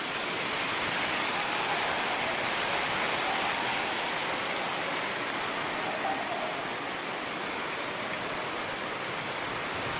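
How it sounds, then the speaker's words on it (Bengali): Heavy rain with big drops pours down in a dense, steady roar, loud and close throughout, with no voices. "আবার শুরু হয়েছে দুর্দান্ত বেগে বৃষ্টি।"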